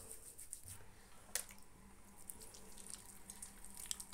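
Water from a running bathroom tap splashes onto hands during a hand cream and skincare routine, a faint steady trickle with a few brief drips and splashes.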